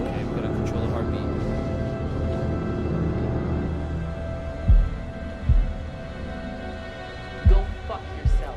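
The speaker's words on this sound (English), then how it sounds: "we gotta control the heartbeat." A heartbeat in the horror video game Man of Medan: a few low, dull thumps arrive in pairs over a steady droning ambience in the second half.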